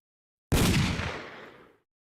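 A single light gun shot fired at a screen in a retro video game played in EmuVR, a sharp loud burst with a booming decay lasting about a second, heard alone.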